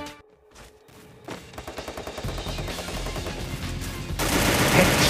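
In the Free Fire video game, rapid automatic gunfire rattles in dense bursts that build steadily and grow louder toward the end.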